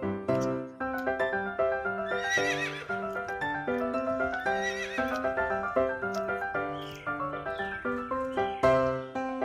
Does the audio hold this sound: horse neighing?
yes